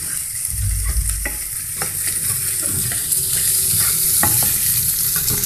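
Vegetable stir-fry with beaten egg and fragrant spices is stirred in a pan, a loud, continuous sizzle with scraping strokes and soft knocks of a utensil throughout.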